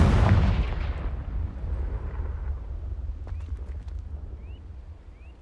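A Confringo fire spell in Hogwarts Legacy bursts into a loud, close explosive blast at the very start, then decays into a low rumbling tail with faint scattered game sounds afterward.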